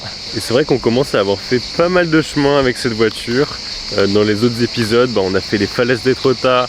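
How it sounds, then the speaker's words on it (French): Cicadas singing loudly in a tree-filled pine forest in the Landes, a steady high buzzing chorus running throughout beneath continuous French speech from someone talking over it. "il y a les cigales là super fort."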